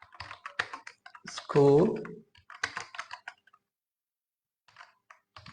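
Computer keys are tapped in quick, close clusters of light clicks, with someone talking in between and over the typing.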